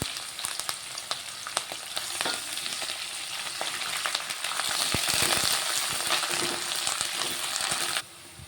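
Onion and curry leaves sizzling in hot oil, a continuous crackling hiss with sharp pops and stirring scrapes that grows louder midway, then drops off abruptly near the end.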